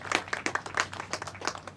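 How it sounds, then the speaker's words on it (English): Applause from an audience at a World Prematurity Day hospital event, a short burst of dense hand clapping with uneven peaks, fairly close and moderately loud. "Let's give them a big round of applause."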